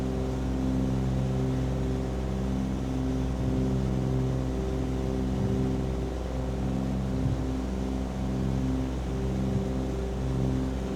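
Steady, loud drone of a Cessna 414's remaining piston engine at full power after losing the other engine, heard from inside the cockpit with a constant tonal hum throughout.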